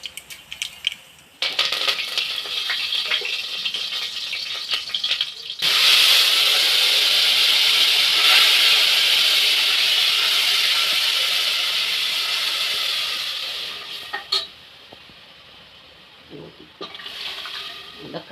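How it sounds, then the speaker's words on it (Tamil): Mustard seeds crackle and sizzle loudly in hot oil for tempering, a dense hiss that builds suddenly, holds for several seconds, then fades as clattering resumes. "எண்ணெய் ஊற்றிக்கலாம், கொஞ்சம் கடுகு போட்டுக்கலாம்."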